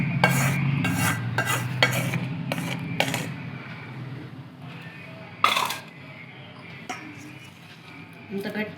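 Boiled tamarind stirred together with salt, turmeric and oil for amla pickle, giving a close scraping, sticky mixing sound with a few sharp utensil knocks, a voice talking over it.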